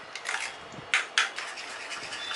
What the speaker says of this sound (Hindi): दही को अच्छे से बीट कर लेना है।